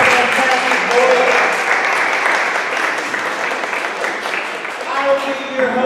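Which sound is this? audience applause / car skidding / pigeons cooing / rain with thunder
audience applause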